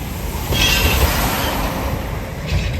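A train rolls past near Sanand railway station, a loud, close, continuous rumble of wheels on track with brief metallic squeals rising over the steady roar.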